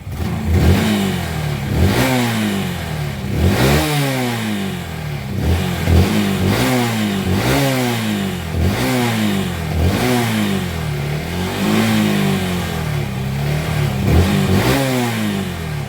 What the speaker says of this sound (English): So I can rev this up till the cows come home.